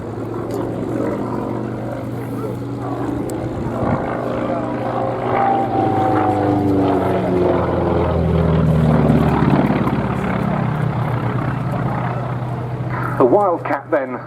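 A Grumman Wildcat, a 1930s US Navy monoplane propeller fighter wearing D-Day invasion stripes, flies at the Duxford airshow with a droning engine that swells and shifts pitch as it passes, under steady commentary.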